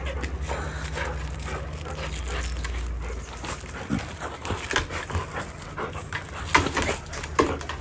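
Dogs panting and scuffling as they play together on a dog bed, with rhythmic breathy bursts and soft thumps close by over a steady low hum.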